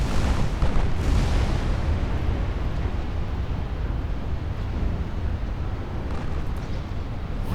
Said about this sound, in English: the 8-inch guns are actually opening up